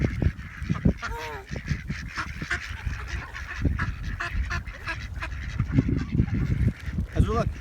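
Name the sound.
ducks and geese calling at a nature park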